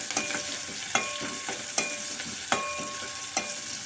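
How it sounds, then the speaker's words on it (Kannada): Chopped green chillies frying in a pan for ridge gourd palya, a steady close sizzle broken by sharp stirring scrapes about every second, with no talk. "ಈಗ ಹಸಿಮೆಣಸಿನ್ಕಾಯಿ ಎಲ್ಲ ಹಾಕ್ಕೊಂಡು ಫ್ರೈ ಮಾಡ್ಕೋಬೇಕು."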